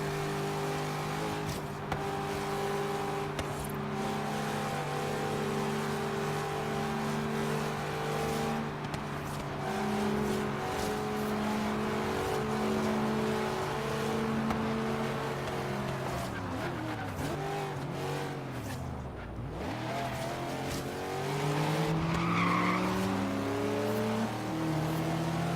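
Corvette Z06 in Forza Horizon 3, engine droning and shifting pitch as it races, with tires squealing and skidding through a turn midway, loud and continuous.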